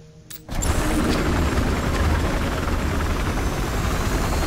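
A transport helicopter's heavy rotor and engine roar in Battlefield Hardline kick in abruptly after a brief quieter moment, then stay loud and constant, close by.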